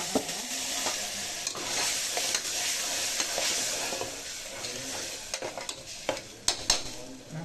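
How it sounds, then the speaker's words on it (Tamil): Onions sizzle steadily in a hot pan while a spoon scrapes and stirs, with a few sharper clinks near the end. "வெங்காயம் நல்லா வதங்கட்டும்"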